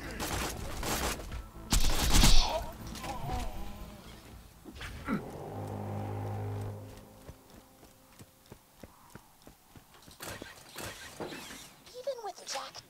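Bursts of gunfire in the video game Borderlands 2, sharp irregular shots and volleys scattered across the scene, mixed with creature roars and other game effects.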